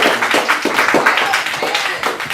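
A comedy club audience claps and applauds for a feature act, a steady patter of hand claps with a few louder individual claps, close and continuous throughout.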